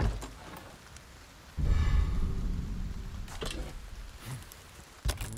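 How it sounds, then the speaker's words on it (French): Rain and a thunder rumble from the Resident Evil 4 Remake video game, a steady hiss of rainfall with a deep loud roll of thunder surging in partway through and a sharp crack near the end. "Ah, il pleut."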